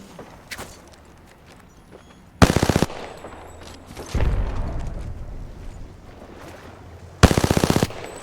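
In the battle-royale game Apex Legends, two sharp bursts of rapid automatic gunfire go off several seconds apart, loud and close, with low rumbling movement and faint shuffling steps between them.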